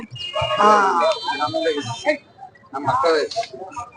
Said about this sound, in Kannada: ಇಲ್ಲೊಂದು ಜೋಡಿ ಜವಾರಿ ಎತ್ತುಗಳಿದೆ ನೋಡಿ